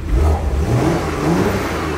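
A Porsche Macan's 350-horsepower twin-turbo V6 revs close by, opening with a deep surge that settles into a steady, loud growl.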